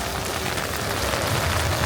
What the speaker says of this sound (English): It's been raining a lot here recently.